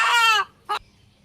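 A local domestic rooster in a Bangladeshi village gives a loud, close, strained call lasting under half a second, then one short, sharp cluck a moment later, with nothing else around it.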